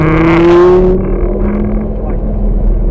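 Lamborghini engine held at steady throttle on a racetrack, a loud close drone with a rising then sustained tone that settles into a continuous hum, no talk over it.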